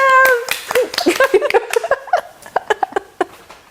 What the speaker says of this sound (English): Clap yourself. Clap yourself.